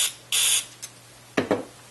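Two short bursts of contact cleaner spray hiss from an aerosol can into a sliding volume control, close up, followed by a couple of quick soft clicks and a faint hum.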